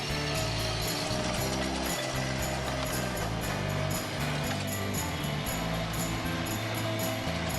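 Bobcat MT52 walk-behind compact track loader tearing out ground for an artificial grass installation, a loud constant engine drone with rhythmic mechanical clanking and grinding, close up.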